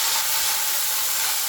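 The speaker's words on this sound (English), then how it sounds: "So I'm still frying it on medium heat." Mushrooms fry in a pan over medium heat, giving a steady, even hiss and soft sizzle that runs unbroken through the moment, close and moderately loud, with no voices.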